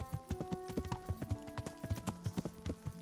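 A horse's hooves clip-clop in Kingdom Come: Deliverance, a close, steady run of sharp hoof strikes in quick rhythm, with a faint musical drone underneath.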